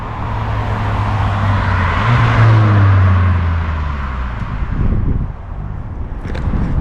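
A 2024 Ford Focus ST with the 2.3 litre EcoBoost engine and standard ST exhaust drives past, its engine note rising and falling as it approaches and recedes, with wind noise over the microphone.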